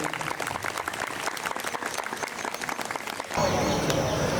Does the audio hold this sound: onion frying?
no